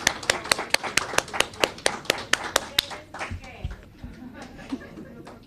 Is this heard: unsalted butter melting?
no